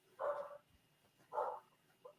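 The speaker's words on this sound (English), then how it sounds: "The dogs are barking." Dogs barking indoors, two clear bark bursts followed by a short softer yip, moderately close and alone without talk.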